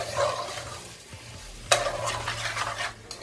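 Rice toasting in garlic in a home kitchen pan, stirred with a spoon: soft scraping and a light steady sizzle, with one sharp clatter partway through, close and fairly quiet.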